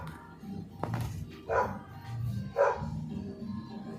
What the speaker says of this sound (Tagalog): nagwawala yung aso kong si Bella eh, kasi gawa ng may gumagawa kasi ng kalsada sa harapan namin